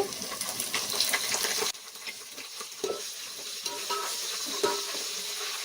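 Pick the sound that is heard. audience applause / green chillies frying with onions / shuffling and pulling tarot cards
green chillies frying with onions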